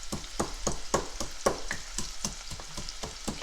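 Chicken fries in a pan with a steady sizzle, punctuated by a regular series of sharp crackles and pops roughly every half second, close and clear with no talking.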